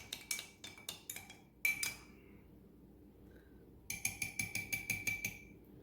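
A metal spoon clinks against a bowl while stirring garlic powder into a turmeric salad dressing. Quick bright taps come in short bursts with a pause between them, then a steady run of rhythmic clinks, close by and with no talk.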